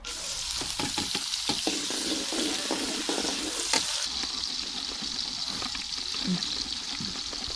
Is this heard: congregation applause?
no